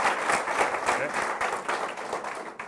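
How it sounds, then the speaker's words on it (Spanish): Audience applause at the close of an EdmodoCon México 2019 education conference session, a dense steady wash of many hands clapping that holds for the whole stretch, with some voices mixed in. "de nuevo damos un aplauso a Fernando"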